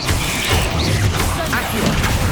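Bombarda blasting spell in Hogwarts Legacy, set in catacombs, a loud dense crash and rumbling explosion with debris-like clatter, sustained and close throughout.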